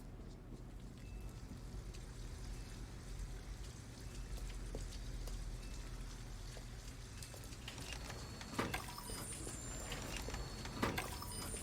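Steady rain falling in a dark city scene in the video game Detroit: Become Human: an even, dense pattering wash with a low rumble beneath and a few sharper taps near the end.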